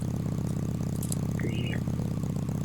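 A boat motor in the Roblox fishing game Fisch hums in a steady, close, low idle throughout, with a brief chirp above it partway through.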